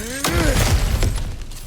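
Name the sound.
ground smashing open in the video game God of War Ragnarok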